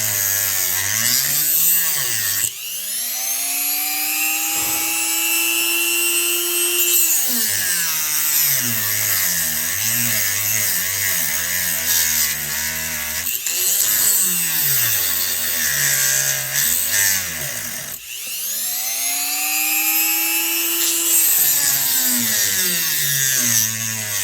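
A Dremel rotary tool cuts into a McCulloch Pro Mac 10-10 chainsaw during gas tank gasket replacement. Three loud, close runs each whine up in pitch, grind steadily, then wind down.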